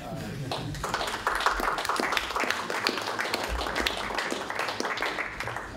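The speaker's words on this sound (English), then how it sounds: "Just clap if you want" An audience at a student senate meeting claps steadily for several seconds, a dense patter of hands with some voices underneath.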